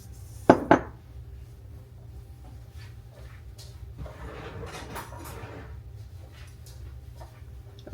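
Cutlery rummaged for a garage-sale teaspoon, with a sharp burst of metallic clinks near the start, then softer shuffling and rustling at a moderate distance.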